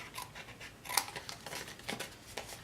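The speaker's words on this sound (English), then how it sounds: "Cut on the score mark, then cut on the tab toward the score mark, and then cut on the end." Scissors snip through cardstock box tabs along score marks while making a 3x3 box with lid, giving a series of close, crisp cuts with short pauses between them, no voices.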